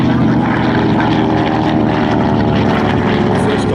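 A Grumman propeller fighter, a WWII carrier aircraft with folding wings, roars loudly and steadily overhead at an airshow, a dense engine drone filling the whole stretch with a commentator's voice underneath.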